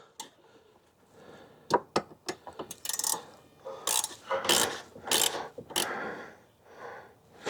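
Ratchet wrench clicking as a bolt is tightened on a John Deere 1025R compact tractor, close-up irregular bursts of sharp clicks and ratcheting strokes with short pauses between them.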